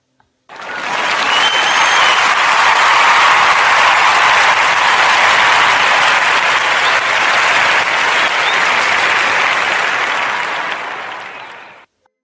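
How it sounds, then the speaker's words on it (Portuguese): An audience applauds for about eleven seconds of dense, even clapping that cuts in abruptly, holds at full strength, then cuts off cleanly. "Uma salva de palmas, por favor."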